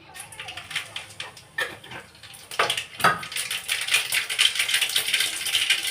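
Mustard seeds splutter and pop in hot oil for a Tamil chicken gravy, a busy crackle of sharp little bursts that grows denser and louder toward the end, with faint voices in the background.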